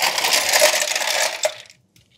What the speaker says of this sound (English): I'm gonna put a little ice on top of these.